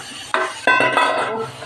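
Chicken meat is tipped into a pan of onions fried until reddish, giving two sharp clattering hits against the cookware followed by a loud, steady sizzle that slowly fades, with no talking.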